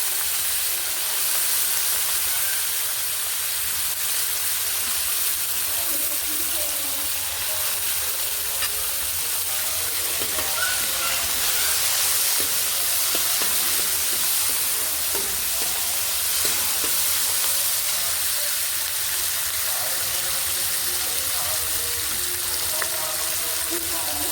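Onion and tomato frying in a pan for a pumpkin curry, giving a steady close sizzle and hiss with scattered stirring scrapes throughout, no talking.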